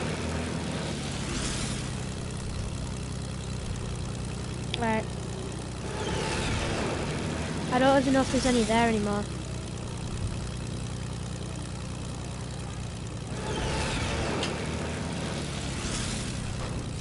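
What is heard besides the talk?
plane engine in the video game Fortnite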